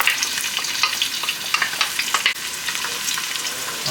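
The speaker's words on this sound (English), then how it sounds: "our onion is sizzling" A single diced onion sizzles in hot oil in a pot, a loud, crackling hiss with scattered pops and stirring clatter, close up and with no voices.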